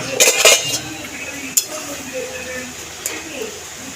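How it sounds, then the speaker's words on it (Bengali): A metal lid lifted off a cooking pot of simmering moong dal with ridge gourd, a couple of close clanks and a clink at the start, then a few lighter metallic taps, with someone talking over it. "ঢাকাটা খুলে দেবো।"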